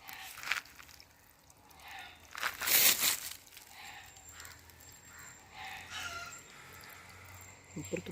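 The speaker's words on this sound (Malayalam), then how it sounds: "ഇപ്പുറത്ത് കോഴിയൊക്കെ കരഞ്ഞുകൊണ്ടിരിക്കുകയാണ്" A rooster crows at a moderate distance outdoors, one strained call rising over faint rustling and crinkling background noise, with a few short fowl sounds scattered around it.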